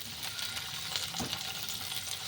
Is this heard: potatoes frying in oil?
yes